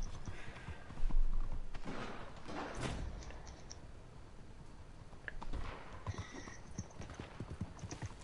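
Horse hooves clip-clopping at a gallop during a close horse race in the Western video game Frontier Justice, a steady rhythmic patter under busy game ambience with a brief thump and a faint whinny.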